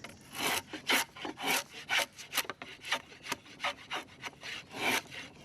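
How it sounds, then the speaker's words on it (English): A thick wooden shingle is hand-shaped with a blade, smoothed and tapered from the thick end, giving repeated rasping, scraping strokes in an uneven rhythm, close and fairly loud with no talk. "I'm going to start on the thick end, so I just want to smooth it off and start the taper just slightly"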